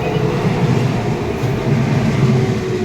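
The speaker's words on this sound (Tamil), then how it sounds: "ரயில்வே கிராசிங் பாருங்கள். ட்ரெயின் வர்றதுக்கு 30 செகண்ட் முன்னாடி க்ளோஸ் பண்ணாங்க. ட்ரெயின் போயிடுச்சு" Train rolling past a railway level crossing, a steady, loud low rumble and roar of wheels and cars that holds constant throughout with no talking.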